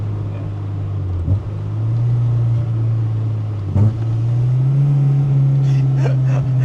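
K-swapped Honda EK1 engine fitted with individual throttle bodies, revving loudly and steadily near the car, its pitch climbing slightly toward the end with a brief dip midway.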